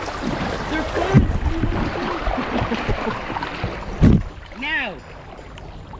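Sticks paddling a small boat through water in a hurried escape from an alligator, splashing strokes close by under shouting, excited voices.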